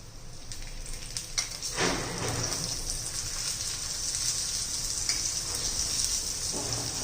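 Slices of bottle gourd shallow-fry in a little oil in a pan, producing an even, close hissing sizzle that runs throughout, broken by a few light knocks.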